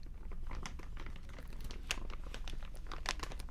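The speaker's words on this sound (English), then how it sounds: "let's continue with whispering and crinkling" Close, soft crinkling of plastic or paper with irregular crackles and rustles, steady and quiet throughout with no talking.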